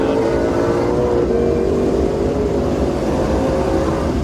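A Ford Mustang GT500 on the Ozarks International Raceway track gives a loud, steady engine roar under throttle, a continuous drone held at close range for a few seconds with no talk.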